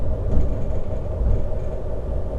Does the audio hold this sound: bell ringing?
no